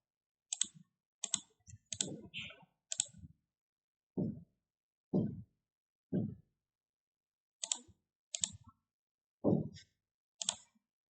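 A computer mouse clicks on a link in a quiet room, giving about a dozen sharp, close clicks in short irregular bursts with silence between them.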